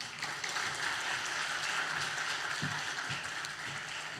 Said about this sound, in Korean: 박수로 우리 환영하면 좋겠습니다